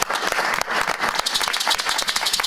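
A church congregation claps and cheers in praise during a worship service, a dense, lively wave of applause from many hands, close and steady for the whole moment, with no one speaking over it.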